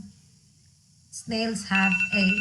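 A timer alarm goes off after a quiet moment, sounding as three loud, close electronic beeping tones in quick succession.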